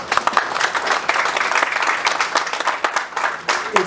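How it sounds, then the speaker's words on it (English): A crowd at a community dinner claps loudly and continuously, bright sharp hand claps swelling and dipping slightly throughout. "they all deserve a round of applause."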